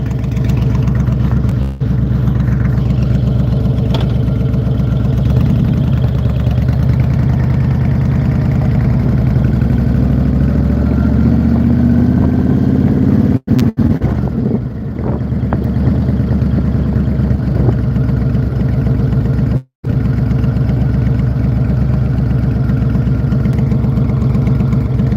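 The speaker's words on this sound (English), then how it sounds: "So, listen to the bike." A cruiser motorcycle engine idles close and loud, a steady low rumble that holds for the whole stretch, with only a few brief dropouts.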